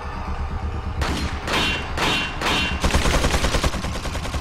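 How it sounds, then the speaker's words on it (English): Bursts of machine gun fire in Resident Evil 4 HD, several loud rapid volleys starting and stopping before a sustained stream of shots at the end, close and dominant with no speech. "You get fucking machine guns."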